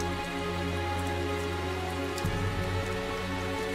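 Rain falls steadily in the video game Tales of Zestiria, heard as a constant, dense patter, with a low tonal hum underneath that shifts partway through.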